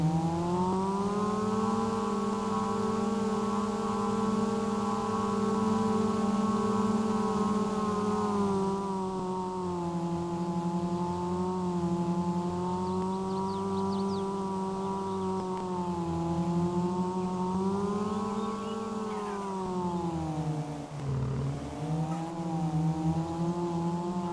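A vehicle engine in Farming Simulator 22 drones steadily with a strong harmonic whine, pitch drifting gently up and down as it holds high revs, loud and unbroken, then briefly dipping near the end.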